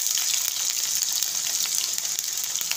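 Small chunks of potato fry in hot oil in a home kitchen pan, giving a steady, dense crackling sizzle close to the listener, continuous and without speech.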